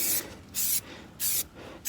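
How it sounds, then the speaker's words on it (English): Car detailing spray hisses from a trigger bottle during an exterior detail, in three short, loud, close bursts with brief pauses between them. "I'm gonna hit it with a spray"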